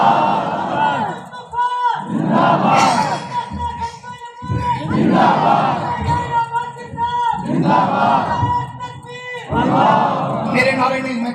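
A large crowd at a religious conference chants slogans in loud, rhythmic call-and-response bursts, roughly every two seconds, voices swelling together and dropping between shouts.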